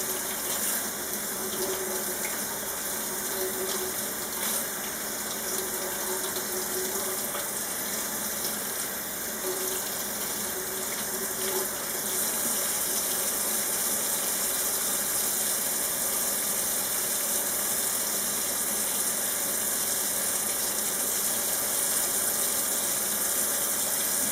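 Water runs steadily from a tap to rinse vinegar out of hand-dyed cross stitch fabric, a continuous close gushing hiss that lasts the whole stretch, loud and unbroken, with no talking.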